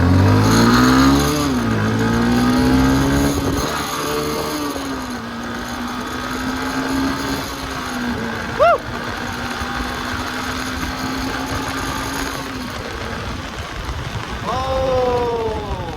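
Motorbike engine droning and labouring as it rides beside the NH 12 highway near Krishnanagar, its pitch sagging and recovering under steady rushing wind noise.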